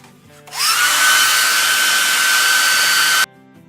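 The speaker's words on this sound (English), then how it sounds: "if I heat it up with a hairdryer, I can tend to get it on there a little easier" A hair dryer switches on abruptly to heat a part during a Shark Navigator vacuum repair, blowing with a loud steady whoosh and high whine for nearly three seconds, then cuts off sharply.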